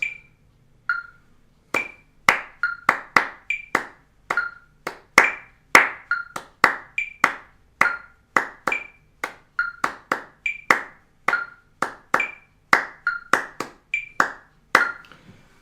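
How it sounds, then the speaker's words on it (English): Hands clap out an Afro-Cuban 6/8 clave rhythm: sharp, dry claps in a steady repeating pattern of grouped strikes, close and clear, continuing alone for about fifteen seconds. "But it's a 6/8 Afro-Cuban clave, which sounds like this."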